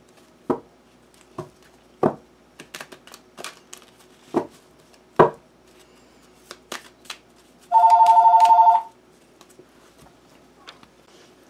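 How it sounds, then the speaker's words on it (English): A telephone rings once in a steady electronic burst after a string of sharp taps and shuffling handling sounds, heard close in a quiet indoor room. "That phone."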